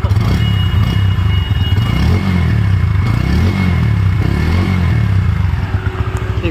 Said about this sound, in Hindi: यहाँ पे इस बाइक को स्टार्ट करते हैं गाइस और इसकी जो है एग्जॉस्ट की साउंड सुनते हैं